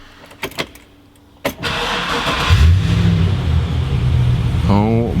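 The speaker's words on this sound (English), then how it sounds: "Let's turn the car on now. Listen to that sound." A Land Rover Defender with a V8 engine cranks with a sharp starter burst, then catches into a loud, steady, deep idle that keeps rumbling close by. A brief rising whir comes near the end, and a voice is heard at the start.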